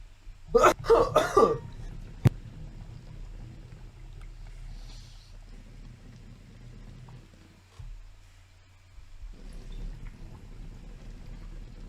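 A short cluster of rough coughs near the start, followed by a quiet room with low background rumble.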